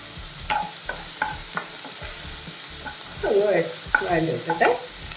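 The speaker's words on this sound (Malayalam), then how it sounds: "ഇതിൻ്റെ കൂടെ ഞാൻ കുറച്ച് കറിവേപ്പില ഇട്ട് കൊടുക്കുന്നു അത് കഴിഞ്ഞിട്ട് ഒരു പച്ചമുളക് ഇതുപോലെ നിറഞ്ഞ കീറിയത് ഇട്ട് കൊടുക്കുന്നു" Curry leaves and a slit green chili hit hot oil in a pan while preparing a squid dish, giving a bursty crackling sizzle with spatula scrapes and stirring clatter, close and moderately loud.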